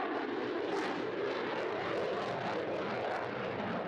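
A Boeing Super Hornet jet flying at low speed, about 150 knots, during a roll: a steady, broad roaring engine rush with no break, moderately distant and unaccompanied by talk.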